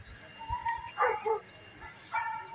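Dogs bark and yip in short bursts at night in a quiet outdoor setting, the calls sounding moderately distant, a few clustered yelps then a pause and another bark.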